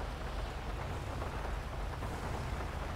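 Steady, dense rain hiss in GTA 5 during a highway patrol drive in an unmarked Tahoe, continuous and fairly loud throughout with a low rumble underneath and no talk.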